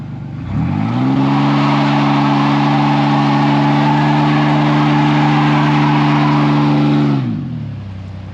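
A Polaris Ranger utility vehicle's engine is revved hard and held at a steady loud drone for several seconds, then drops back to idle, close by with no talking.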